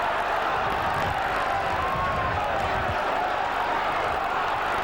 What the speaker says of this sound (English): the roar of the crowd here at Headingley